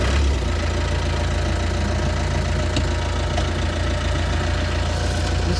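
A Tata Mobile pickup drives on a highway, its engine giving a loud, steady low drone with a knocking rumble that holds constant throughout, no talk over it.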